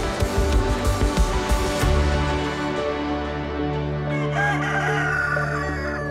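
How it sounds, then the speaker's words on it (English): A rooster crows loudly and close by, its call rising and falling over a few seconds, mixed with swelling orchestral music. "I just heard the rooster."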